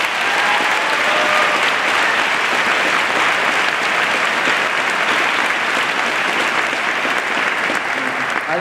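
A graduation-ceremony audience at a 2016 West Senior High School commencement applauds in a dense, steady wash of clapping that holds at an even loudness for the whole stretch, with no voices standing out.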